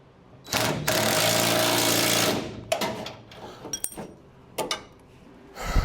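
A body panel is bolted onto a 1971 Triumph TR6 with a shim fitted: a close, buzzing power-tool run of about two seconds, followed by scattered metallic clinks and knocks, with no speech.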